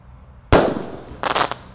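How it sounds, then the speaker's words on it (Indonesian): A 10-shot firecracker fireworks cake set off outdoors at dusk during Ramadan: one loud close bang, then a rapid cluster of crackling bursts near the end, over steady background hiss. "10 shot berhasil menyala"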